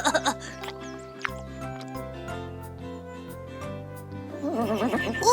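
A cartoon horse on a farm whinnies in short warbling bursts at the start and again near the end, set over a bright, sustained musical score.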